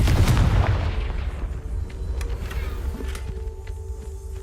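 A Confringo fire spell in Hogwarts Legacy bursts in a loud, deep boom that rumbles and decays over several seconds, leaving faint crackles and low hum behind.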